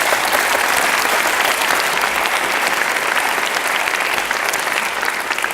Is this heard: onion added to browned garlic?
no